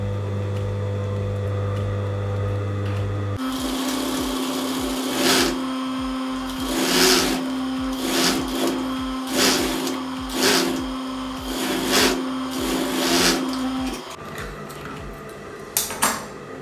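A sewing machine stitching the crotch seam of joggers pants, running in a steady mechanical whir with repeated short bursts and pauses, close and loud, with a fabric-handling rustle before and after.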